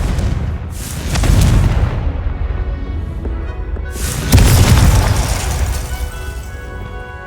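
Two deep booming blasts from the Confringo fire spell in Hogwarts Legacy burst out loud and close, one near the start and a second around the middle, each rumbling off slowly with no talk over them.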